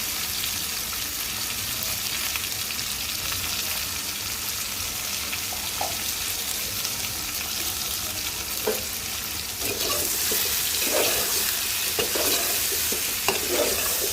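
Vegetable curry with spices sizzles steadily in a pan while a spoon stirs and scrapes through it, the frying hiss growing slightly louder partway through, with occasional clinks and no talking.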